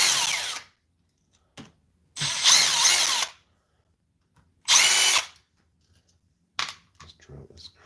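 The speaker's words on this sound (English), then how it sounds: "This drill is crazy." A power drill whirs in three loud bursts of about a second each, separated by silence, followed by a few shorter clicks and handling noises.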